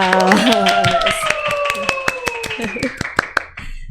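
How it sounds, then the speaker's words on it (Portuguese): Audience members clap to welcome a guest on a podcast show, with scattered, sharp claps that grow sparser while a voice speaks over them. "Uma salva de palmas!"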